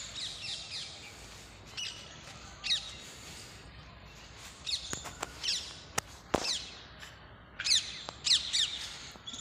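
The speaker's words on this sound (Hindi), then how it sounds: "देखो ये तोते बैठे हैं पर।" Parrots squawk in a park at dusk, shrill harsh calls coming in irregular bursts at middle distance, with scattered clicks and light movement noise between them.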